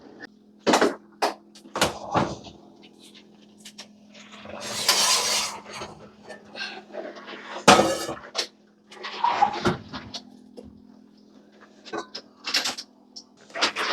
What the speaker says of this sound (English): I'm going to get the Dutch oven out of the oven now